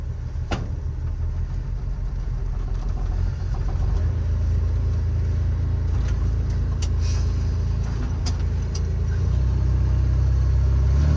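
Hemi 6 engine of a 1959 Chrysler Wayfarer AP2 coupe utility runs steadily up close, a continuous low rumble that swells slightly partway through, with no talking over it.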